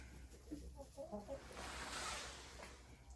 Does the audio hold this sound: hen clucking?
yes